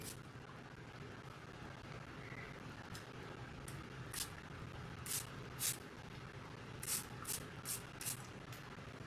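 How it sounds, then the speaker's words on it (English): Spray bottle spritzing an apple cider solution onto hair during a deep treatment, a series of short crisp hissing bursts, some single and some in quick rapid succession, over a steady low background rumble. "take your apple cider solution and spritz."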